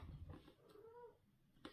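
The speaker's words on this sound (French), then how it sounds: "Nos chats. Les chats." An unhappy domestic cat yowls indoors, a drawn-out wavering cry in the middle, close and moderately loud, with rustling before and after.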